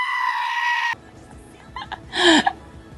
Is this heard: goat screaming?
yes